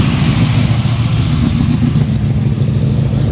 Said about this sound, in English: we're going to hear a lot of V8 sounds